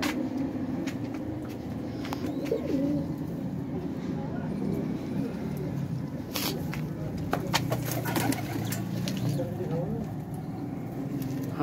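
Punjabi flying pigeons cooing in a loft in Ludhiana: low, soft, repeated coos over constant background noise, with people talking nearby.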